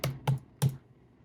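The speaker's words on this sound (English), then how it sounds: "No, I'm typing it again." Three quick, crisp keystrokes tap out on a keyboard up close, evenly spaced, then quiet.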